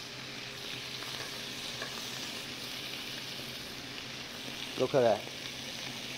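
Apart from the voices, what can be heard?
octopus searing in a hot pan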